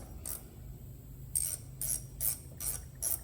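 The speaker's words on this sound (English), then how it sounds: "We'll go ahead and pull this front bolt out." A 5/32 Allen wrench backs out the front bolt on a 2013 Harley-Davidson during a fuel filter replacement, giving six short, close metallic clicking bursts in an uneven rhythm, with no talking.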